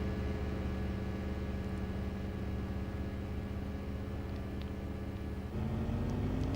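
Inline-six car engine in Gran Turismo 4, a steady droning hum held at constant revs, then shifting to a new pitch near the end, with no talk.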